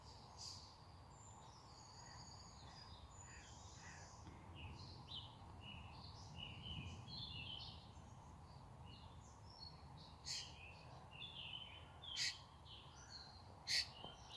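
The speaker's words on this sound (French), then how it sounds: "Je suis avec les oiseaux" Small birds chirp and tweet outdoors in scattered, faint calls over a steady low background hum, with a few sharper chirps toward the end.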